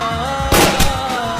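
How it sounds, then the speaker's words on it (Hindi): A Bollywood film scene set in a club, with a loud, sharp gunshot burst and a quick echoing follow-up cutting through background music in the middle of the moment. "जब इमरान हाशमी गोलियां चलाते हुए क्लब में एंटर करते हैं,"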